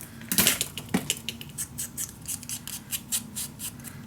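Scissors snip through a piece of scrapbook paper in a quick run of crisp, close cuts, loud at first and then settling into a steady rhythm of about a dozen snips, with no talking.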